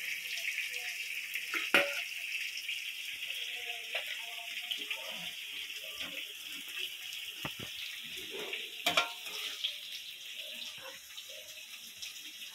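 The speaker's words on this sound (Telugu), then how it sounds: "గోబీ ఆల్మోస్ట్ ఫ్రై అయిపోయింది, ఇప్పుడు మనం తీసేద్దాం బయటికి." Cauliflower (gobi) deep-frying in hot oil gives a steady, close sizzling hiss broken by scattered sharp crackles and pops throughout, with no talking.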